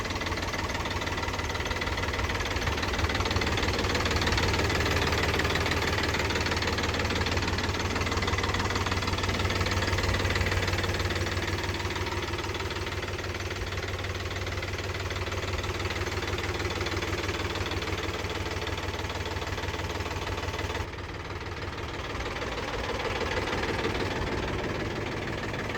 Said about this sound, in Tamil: இந்த டிராக்டர் மகேந்திரா ஜிவோ 254 டிஐங்க